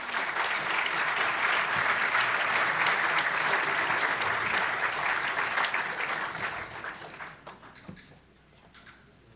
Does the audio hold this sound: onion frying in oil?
no